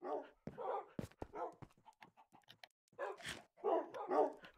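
Several dogs barking in the video game Minecraft, a series of short, clear yips and barks in bursts, some overlapping, close and fairly loud with brief gaps between them.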